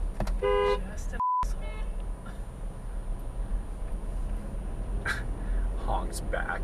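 A car horn honks in a short burst of stacked tones early on, heard inside a moving car over steady road rumble, with a later faint high tone; a voice talks through the clip.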